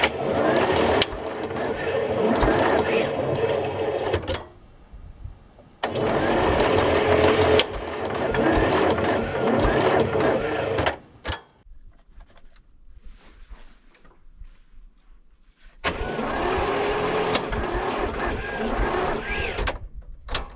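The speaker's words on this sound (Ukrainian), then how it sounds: "Акумулятор крутить, але не заводиться." The starter of a T-16 tractor cranks the engine on battery power without it catching, three long, loud, whirring cranking bursts separated by quiet gaps with faint background sound.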